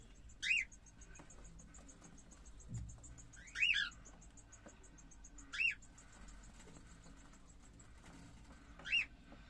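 Two-month-old cockatiel chicks give four short, bright chirps spaced a few seconds apart over a quiet, low background hum.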